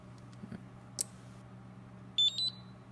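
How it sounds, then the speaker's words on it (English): An Arduino RFID access control buzzer sounds on reset with quick, high-pitched electronic beeps in a tight cluster, fairly faint over a low electrical hum, with an earlier soft click. "You hear 3 beeps."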